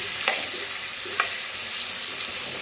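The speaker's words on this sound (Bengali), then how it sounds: "এবার পেঁয়াজের বেস্টাটা আমি করে নেব, দিয়ে দিলাম পেঁয়াজগুলো, পেঁয়াজগুলো একটু লাল লাল করে ভেজে নেব।" Sliced onions fry in white oil as the base for an egg chicken biryani, giving a steady, loud, close sizzle throughout with a couple of faint stirring clinks and no voices.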